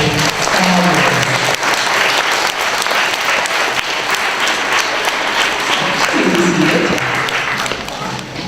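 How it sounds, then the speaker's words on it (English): Loud, sustained applause fills a school district meeting hall for its full length, a steady crowd of hands, with a voice briefly audible underneath at the start and again near the end. "Give yourselves a round of applause"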